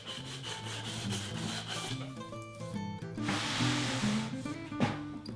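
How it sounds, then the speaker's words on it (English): A wooden cabinet is sanded by hand to take off sharp edges, giving a soft, repeated rubbing scratch at close range under steady background music. "give the cabinet a good sanding, removing any of the sharp edges"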